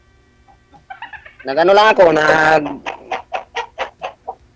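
Chickens kept behind a house cluck and squawk close by, a loud drawn-out call followed by a rhythmic run of short clucks, with a voice speaking briefly underneath.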